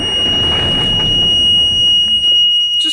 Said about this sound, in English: that beep is annoying